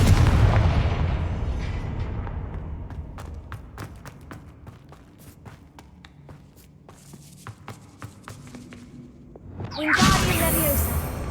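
Fiery Confringo spell blasts in Hogwarts Legacy boom loudly at the start and fade into a long rumbling tail, followed by scattered sharp cracks and a fresh surging whoosh near the end.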